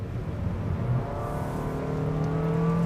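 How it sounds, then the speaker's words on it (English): A Honda City Hatchback RS accelerating in second gear on a wet mountain road, its engine drone rising steadily in pitch as revs climb, heard close from inside the car with no talk. "If you're driving a normal car and you accelerate up in second gear like this, that would be the engine sound that you would typically hear."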